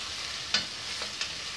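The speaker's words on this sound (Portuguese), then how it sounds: "deixa fritar para depois a gente colocar o milho" Close, steady sizzle of chicken frying in a pan, with a few sharp scrapes of stirring.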